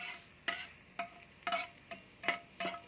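Ground meat frying in a pan is stirred in six evenly spaced scraping strokes, each a bright scrape over a steady low sizzle, close and fairly loud with no voices.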